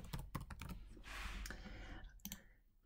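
Quick bursts of clicking keys on a computer keyboard as a folder name is typed, close and fairly quiet, with short pauses between flurries of keystrokes.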